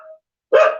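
A dog gives a single sharp bark up close after a faint earlier yip, in a rural community setting, with no other sound between.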